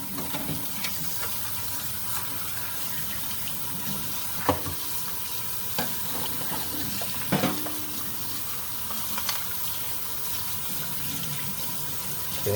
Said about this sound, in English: And now we can rinse everything.